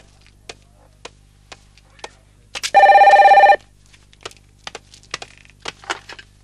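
An indoor telephone gives one short, loud burst of ringing. Scattered light knocks and footsteps sound before and after it in a quiet room.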